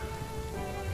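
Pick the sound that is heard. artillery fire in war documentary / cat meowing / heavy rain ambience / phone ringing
heavy rain ambience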